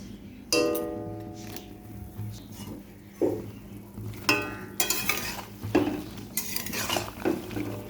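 Chopped taro leaves sizzle in a hot pan with salt and turmeric while a utensil clanks and scrapes against the metal in irregular bursts, moderately loud and close, with no talking.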